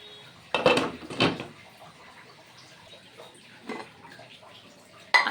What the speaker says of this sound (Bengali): আবারও একটু ঢাকনা দিয়ে ঢেকে দেব